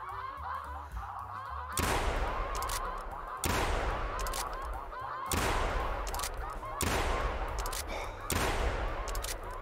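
Shotgun blasts in the hunting game theHunter Classic: five loud, sharp shots spaced about two seconds apart, each with a brief echoing tail over quiet outdoor ambience.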